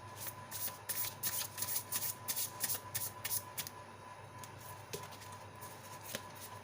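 Tarot cards being shuffled in quick riffling bursts, a run of crisp rapid flutters followed by sparser softer shuffles, close and quiet with no talking.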